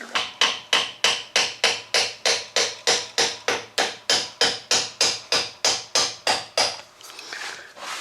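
A hammer tapping apart a Holley four-barrel carburetor, about twenty sharp metallic-wooden blows in an even fast rhythm, close and loud, then stopping, leaving a soft rustle.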